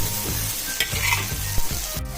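Rice vermicelli (mee hoon) being stir-fried for Siamese-style mee hoon goreng after fish sauce or paste goes in, with steady frying sizzle and repeated scraping stirs of the spatula in the pan, close and alone.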